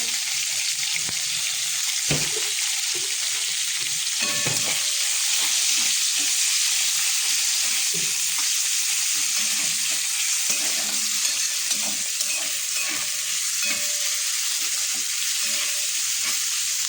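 Onion fries in a pan for a vegetable curry of potato and soybean chunks, giving a dense, bright, continuous sizzle up close with occasional soft stirring knocks and no voices.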